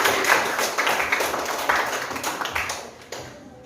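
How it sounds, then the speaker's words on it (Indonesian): Students in a classroom clapping for themselves, a brisk patter of many hands clapping together that fades toward the end. "Bagus sekali, tepuk tangan untuk diri kamu sendiri."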